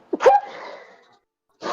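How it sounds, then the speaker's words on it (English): A single person sneezes close up: a quick intake of breath, then one sharp explosive burst that trails off, followed by silence and a brief noise after a pause. "hold on, I have to sneeze."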